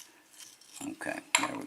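Small metallic clicks and scraping rattles come from a Sesamee combination padlock being turned by hand, a few short close bursts separated by brief pauses.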